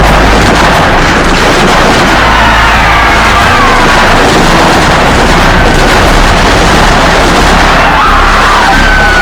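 Soldiers firing guns in a staged scene, a dense loud barrage of overlapping booms and cracks with a constant roaring rumble, close and heavily saturated throughout.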